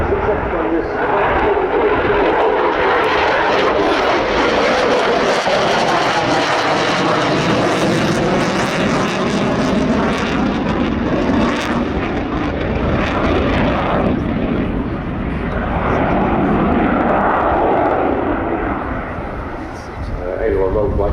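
An aerobatic aircraft flies aileron rolls at the RIAT airshow, its engine roaring loud and close with Doppler-like rising and falling swells over about twenty seconds, easing away toward the end while a commentator talks over it.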